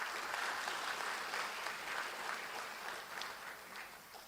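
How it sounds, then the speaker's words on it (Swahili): Steady applause from a festival audience honouring the guest of honour at an intellectual festival, a dense, even clapping that holds throughout and fades slightly toward the end, with no voices above it. "Naomba basi tumpie yeye mwenyewe makofi."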